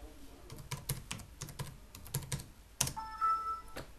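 Keys tapped on a Toshiba Satellite L505D-S5983 laptop keyboard as a password is entered, a string of close, light clicks at an uneven pace, then a brief tone near the end.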